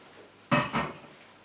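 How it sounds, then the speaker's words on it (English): A pan of drained potato pieces set back on a hot stove, heard as two sharp metallic clanks close together, then quiet. "Put your drained potato pieces back into your pan, back on the hot stove"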